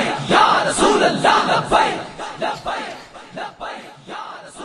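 A large crowd chants a religious slogan back in unison at a religious gathering, loud rhythmic bursts of many voices repeating in quick succession, each shout swelling and fading.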